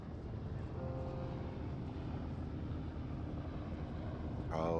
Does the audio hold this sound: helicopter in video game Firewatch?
yes